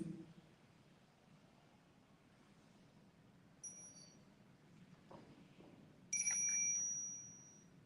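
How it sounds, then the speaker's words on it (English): Two clear bell strikes ring out over quiet background hiss at a London memorial vigil, the first small and brief, the second louder with a bright tone that slowly fades. "May the sound of the bell reverberate through the cosmos"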